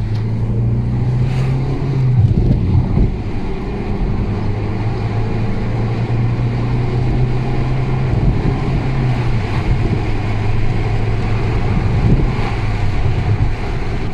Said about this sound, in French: On va faire une petite accélération.